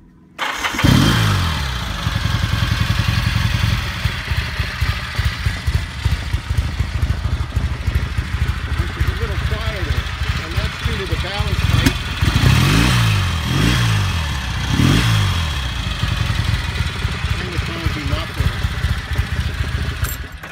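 A 1973 Laverda twin motorcycle starts up and idles with a deep, throbbing exhaust note, then revs repeatedly in rising and falling bursts; a person talks intermittently nearby over the engine.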